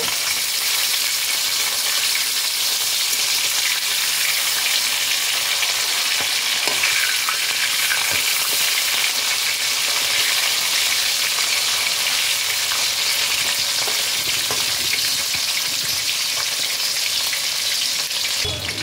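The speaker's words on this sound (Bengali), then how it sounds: "মাছগুলোকে এবার এপিট ওপিট করে লাল লাল করে ভালো করে ভেজে নেব" Tilapia fish frying in hot oil, a steady loud sizzle with dense crackling that runs unbroken throughout, with occasional faint clinks of a utensil.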